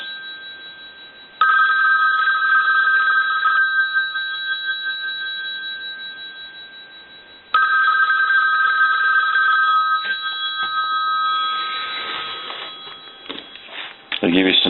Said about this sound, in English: we're going to go ahead and ring the telephone